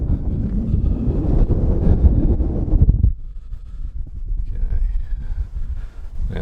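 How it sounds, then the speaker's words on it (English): Strong gusts batter a microphone outdoors, a heavy rumbling buffet that drops briefly and then returns with a steady blustery roar. "sorry about the wind again."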